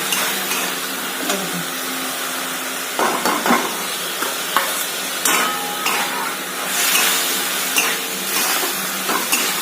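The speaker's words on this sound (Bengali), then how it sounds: "শুকনো মাছটা দিয়ে আবার একটু কষিয়ে নিচ্ছি" Dried fish and eggplant are stirred and sautéed in a pan, a close, steady sizzle broken by repeated scraping strokes of the spatula against the pan, with no talk.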